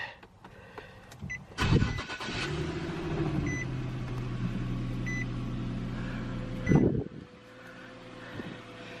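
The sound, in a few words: car engine starting and running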